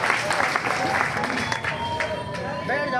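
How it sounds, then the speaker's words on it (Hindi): Crowd at a live rally in Mewat applauding to welcome a speaker, a loud wash of clapping mixed with crowd hubbub and voices. "हर शिकारा जी का एक बार जोरदार तालियों से स्वागत"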